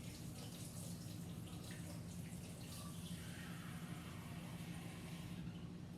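A steady, quiet rush of warm water runs continuously into a cup, with no talking.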